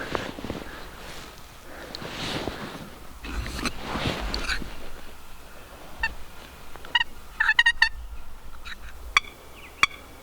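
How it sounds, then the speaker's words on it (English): During an early-season turkey hunt in Minnesota, a wild turkey gobbles from a distance in a few short, rattling bursts over faint wind and rustling outdoor background. "Gobblers."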